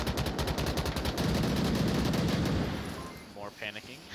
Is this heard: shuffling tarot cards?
no